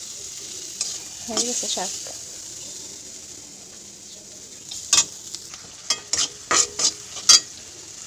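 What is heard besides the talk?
leafy greens being stir-fried in a pan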